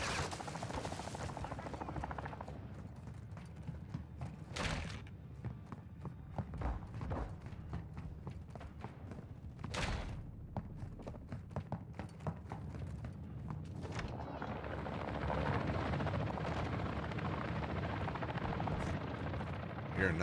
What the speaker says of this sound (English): Be advised, the enemy attack helo is in your location.